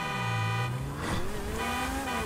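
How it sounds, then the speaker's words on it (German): A car horn sounds in GTA 5 amid engine and tyre noise, a sustained honk that drops and bends in pitch as the vehicle moves, fairly close and loud, with no speech. "Wenn ich auf den Joystick raufdrücke, dann geht die Hupe an."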